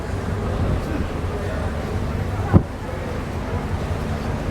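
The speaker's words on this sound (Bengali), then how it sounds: "সবগিতে প্রচুর বাতাস আর বৃষ্টি হচ্ছে" Steady wind and rain roar around a moving Mohanagar Express train from Dhaka to Chittagong on a rainy night, a continuous broadband rush with a brief sharp knock partway through.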